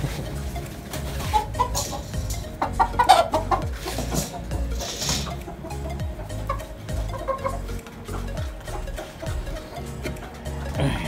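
Escolin gamefowl chickens, a four-month-old line, cluck and call repeatedly while being fed, several birds close by over steady background noise, with a brief voice now and then.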